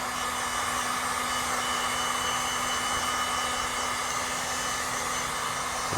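A heat gun post-heats the vinyl wrap along the front-end edges of a Tesla Model 3, giving a steady, loud, close blowing roar with a faint constant hum that runs unbroken the whole time, with no talking.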